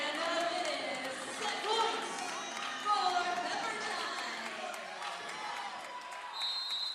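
Home crowd cheering and chattering for Pepperdine at a college volleyball match against Pitt, a steady roar of many voices filling the gym with brief swells, mixed with scattered talk.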